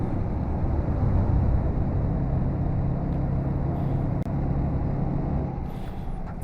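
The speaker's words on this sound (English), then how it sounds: "And a few of them cement trucks now." Heavy cement trucks rumbling along a road on a long drive, a steady loud low engine and tyre roar filling the whole stretch with a brief dip midway, no voices.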